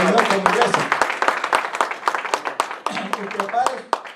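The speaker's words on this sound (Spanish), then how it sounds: "Denle un aplauso al Señor por la iglesia." A church congregation applauds during a worship service, a dense, steady patter of many hands clapping at close range with scattered voices mixed in.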